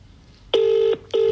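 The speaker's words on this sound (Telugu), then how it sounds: "దేవుడా ఫోన్ ఎత్తు" Two electronic phone tones sound in succession after a quiet start, each a steady beep lasting under half a second.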